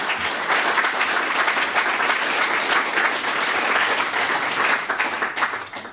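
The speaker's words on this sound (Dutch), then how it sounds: "Onder jullie ovationele applaus natuurlijk." An audience gives a warm ovation as a guest is introduced at an afternoon talk event, dense sustained clapping from a large crowd that holds steady and then fades out toward the end.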